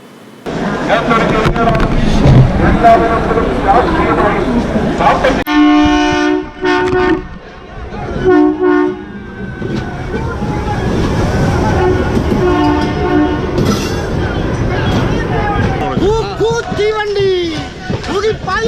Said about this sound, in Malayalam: ഞങ്ങൾ തടയും തീവണ്ടി